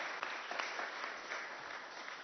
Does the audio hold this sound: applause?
yes